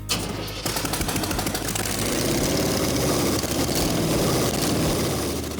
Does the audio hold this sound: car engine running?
yes